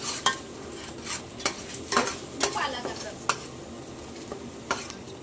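Onion and whole spices cooking in a pan for a mutton dish, with a steady sizzle under repeated scraping stirs that knock at an uneven rhythm, close and fairly loud, with no voices.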